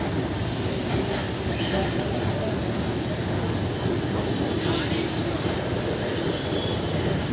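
A Chennai Metro train rumbles steadily along the track, a constant dense roar with faint wheel noise and no clear voices.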